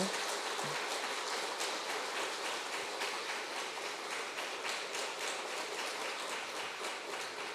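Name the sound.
applause in church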